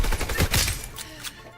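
Rapid gunfire bursts from a World War II shooter game, dense cracking shots clustered early then thinning out, with some game noise behind.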